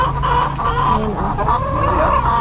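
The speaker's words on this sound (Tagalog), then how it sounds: "Mga manok" Chickens cluck and chatter continuously up close, several birds overlapping in a dense, busy flock sound with no talking.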